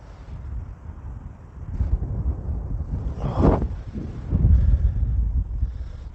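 Strong wind on the Brandon golf course buffets the microphone with a low, continuous rumble, swelling into heavier gusts partway through, and no one speaks.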